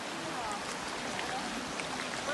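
A river flows strongly nearby, a dense, steady rush of water without a break.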